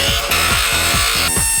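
A bench grinder running at 3,500 RPM in a workshop, with a high steady whine over a rhythmic low pulsing that repeats about every quarter second, loud and close with no voices.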